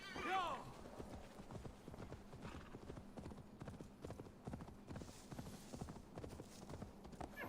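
Horse hooves clip-clop steadily in Assassin's Creed Valhalla on PS5, a rhythmic mid-level trot with a brief whinny near the start, running under ongoing talk.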